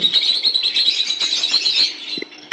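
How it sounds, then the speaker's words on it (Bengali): Java sparrows in a small colony of fifteen to twenty birds, a continuous bright chirping and twittering close by with a few faint wing flutters. "অল্প কিছু পাখি রাখা আছে এখানে"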